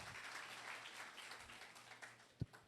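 Applause from a seminar audience in Banswada, Rajasthan, a dense steady patter of many hands clapping throughout, with one sharper thump near the end.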